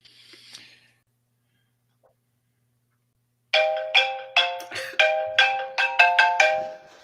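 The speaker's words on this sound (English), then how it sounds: "Was that your phone?" A phone ringtone plays a repeated electronic chiming pattern, loud and clear in roughly half-second pulses, after a brief faint noise and near silence.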